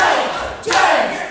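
A wrestling crowd at a live show in Loughton roars for James Pharrell, a dense wash of cheering and shouting that dips briefly and then surges louder, close and sustained.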